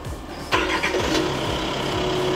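The Isuzu engine of a SANY SY135C-10 excavator, a 13.5-ton machine, cranks and catches, then settles into a steady, fairly close mechanical rumble.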